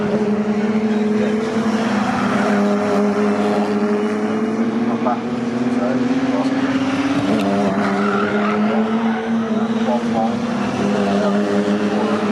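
Ginetta GT race cars lap at Snetterton during a 20-minute race, with engines droning loud and continuous, pitch sweeping up and down as cars pass, under a commentator talking throughout.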